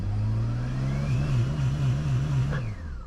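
Car engine revving against a transmission brake while building boost, held near 2800 RPM; a loud, steady drone that wavers rhythmically as the revs bounce off the limiter, then drops away near the end.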